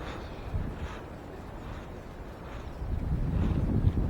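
Cold, icy wind gusting outdoors by the water on a fishing trip, buffeting the microphone with low rumbling blasts that swell and fade, growing stronger toward the end.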